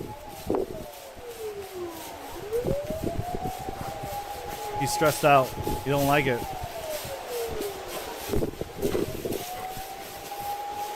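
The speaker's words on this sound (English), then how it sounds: "A fire truck siren sounded nearby." A fire truck siren wails nearby in long rising and falling sweeps, moderately loud and continuous, while people talk over it.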